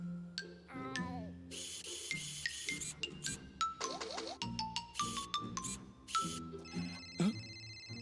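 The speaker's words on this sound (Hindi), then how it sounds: "ओह, मेरा फोन आ रहा है।" A mobile phone rings in an animated Hindi children's cartoon, playing a bright, melodic electronic ringtone of tinkling tones that repeats in short phrases, clear and fairly close, with no talking.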